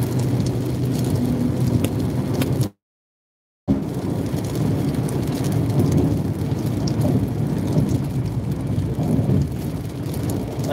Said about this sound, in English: Start raining.